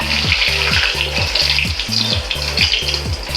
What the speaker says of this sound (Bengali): আগে আমি যে ডিম দুটা ভেসে তুলে নেব